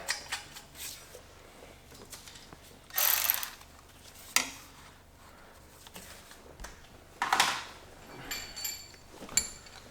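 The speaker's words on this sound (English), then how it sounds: "So we're gonna screw it in." A hand ratchet turns a bolt while a catless downpipe is fitted to an N54-engine BMW 135i, giving scattered bursts of fast clicking with quieter metallic handling between them, close and alone.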